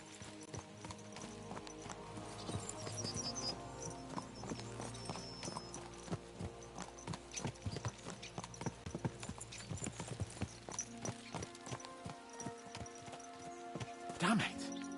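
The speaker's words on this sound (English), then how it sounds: "Let's really spur these horses on, eh?" Horses' hooves clip-clop steadily through a medieval open-world ride in the game Kingdom Come Deliverance 2, a brisk rhythmic gait running the whole stretch beneath game music, someone talking over it and a brief whinny near the end.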